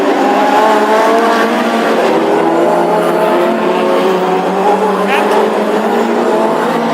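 Classic hot rod cars race in a heat at Birmingham, giving a loud continuous roar of engines with overlapping revving tones close by.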